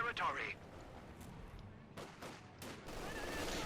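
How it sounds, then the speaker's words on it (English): Rifle and light machine gun fire from a Company of Heroes 2 battle, US riflemen against German grenadiers: bursts of shots and rattling fire under a steady din of combat, with a commentator talking over it. "Rifleman versus Grenadiers, shots fired, light machine guns raking them with hot death"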